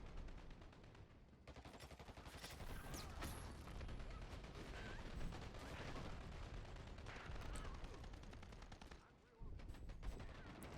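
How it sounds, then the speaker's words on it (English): Airstrike in the online shooter Dirty Bomb, heard as dense, continuous booming and rattling gunfire-like blasts filling the whole stretch, loud and close, with a brief drop near the end before the barrage resumes. "It's going to do the airstrike."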